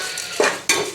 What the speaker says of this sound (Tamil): ஓகே, எல்லாத்தையும் சேர்த்துக்கிட்டு இப்போ இது எல்லாத்தையும் மிக்ஸ் பண்ணலாம்.